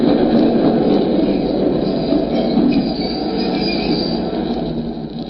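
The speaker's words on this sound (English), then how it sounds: "The last train was just pulling in." A subway train rumbles steadily and loudly into a station, with wheels squealing against the rails as it rolls in, the noise easing slightly toward the end.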